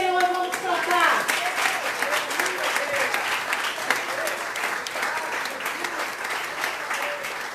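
A church congregation at a celebration service claps together, a dense, steady applause that runs the whole stretch, with voices singing and calling out over it near the start.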